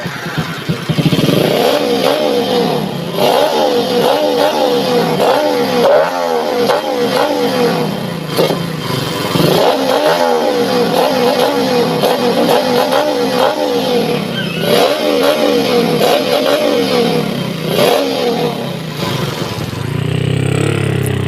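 A Rusi RS125 motorcycle with a carburetor, freshly refilled with Delo Gold oil in its wet clutch, runs steadily and revs repeatedly in loud, close surges that rise and fall every few seconds, with no talking.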